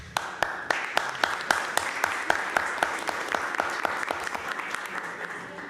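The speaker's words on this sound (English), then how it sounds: "Round of applause." A crowd at a council meeting applauds steadily for several seconds, many hands clapping in a brisk, even rhythm that slowly thins toward the end.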